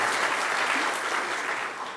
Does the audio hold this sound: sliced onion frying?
no